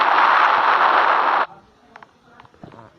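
A loud, dense bomb explosion in Roblox Brookhaven roars for about a second and a half, then cuts off abruptly, leaving quiet with brief faint clicks and a voice.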